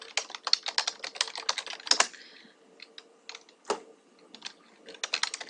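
Quick bursts of keystrokes tap on a computer keyboard, close and crisp, with a pause in the middle before the rapid clicking picks up again.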